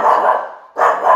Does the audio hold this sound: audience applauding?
no